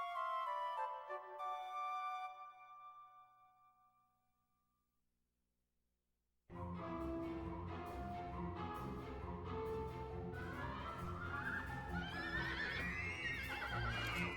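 A horse in Dragon Quest 8 neighs with a whinny from the game's soundtrack that fades to near silence, followed by a dense stretch of game audio that may hold hoofbeats.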